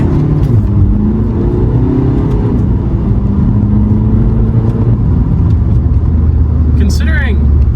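A 2006 Volkswagen Golf Mk5 with the 1.9 TDI diesel accelerates along a straight, its engine drone loud and steady with rising tones throughout.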